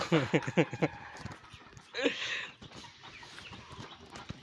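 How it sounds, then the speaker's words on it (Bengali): Chickens and roosters cluck in short bursts, a quick run of clucks at the start and another call a little later, fairly near and moderately loud, with soft background noise and faint voices. "এই যে মুরগা বাহিনী"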